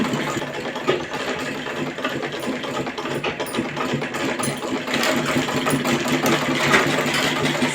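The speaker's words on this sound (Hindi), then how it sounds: "चारों तरफ से हम इसके इसी तरीके से पूरी सिलाई को लगा लेते हैं।" A sewing machine stitching kurti fabric, its motor whirring steadily and fairly loudly throughout with a rough, rapid mechanical texture and no talk.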